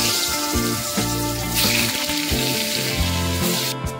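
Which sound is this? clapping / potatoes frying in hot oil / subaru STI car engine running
potatoes frying in hot oil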